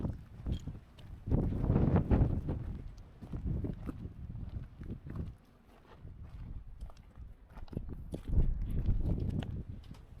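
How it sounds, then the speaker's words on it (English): Strong wind buffets loudly in heavy rumbling gusts that rise and fall, with scattered knocks and rustles, at an abandoned mine near Winnemucca, Nevada. "It's super windy"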